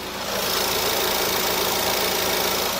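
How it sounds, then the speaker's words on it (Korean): A Ford Explorer 2.3 AWD SUV idles with the hood open, giving a steady, even engine hum close to the microphone that holds constant throughout, with no voices. "그럼 바로 엔진 사운드 담아드리도록 하겠습니다."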